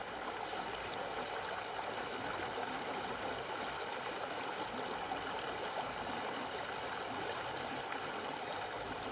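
Río Los Reartes in the Córdoba hills flowing past a small riverbank beach, a steady broadband rush of running water, close and continuous with no voices.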